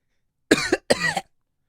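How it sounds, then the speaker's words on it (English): Two short, sharp coughs in quick succession, close and clear, with silence before and after. "All right, and cough."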